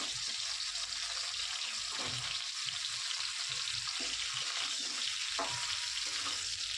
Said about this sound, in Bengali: এবার এই তেলের মধ্যে প্রথমে আমি ফুলকপিগুলো ভেজে নেব।